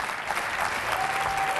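Studio audience applause on a Spanish television comedy show, a dense, steady wash of clapping heard alone and at full strength throughout the short stretch.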